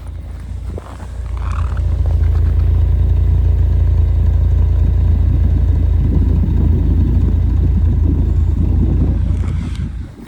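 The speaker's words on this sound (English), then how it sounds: "Let's go around and just have a little listen to the exhaust." A 1989 Ford Tempo coupe idles with a deep, steady low rumble from the exhaust, close to the microphone, with some wind buffeting and a brief fade at the start and end.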